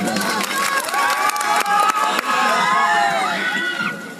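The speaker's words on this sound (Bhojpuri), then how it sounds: "तो एक बार जोरदार ताली" A crowd at a tilak ceremony claps and cheers loudly, with dense overlapping applause, shouts and whistles, a lively continuous roar that tapers off near the end.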